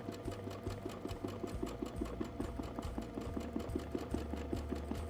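A domestic sewing machine quilting around a Westalee ruler template, its needle chattering in a fast, steady rhythm with a mechanical hum, close and continuous without pause.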